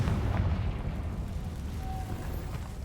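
Confringo spell blast in the Hogwarts Legacy video game, a deep rumbling boom that rolls on as a low, loud roar for a few seconds, no talking.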